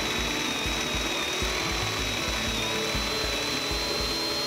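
A Reed Feed Tap drilling machine drives its cutter through the sidewall of a pipe, giving a steady high grinding whine over rhythmic low thumps from the rotating tool. The sound is close and continuous, with nobody speaking.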